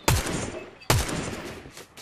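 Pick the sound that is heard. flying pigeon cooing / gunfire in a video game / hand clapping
gunfire in a video game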